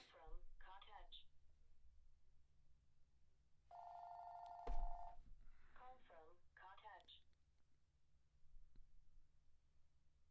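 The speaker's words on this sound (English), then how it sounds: "that's a phone." A telephone rings once in a steady electronic tone burst with a click at its end, heard during a pause between stretches of nearby conversation.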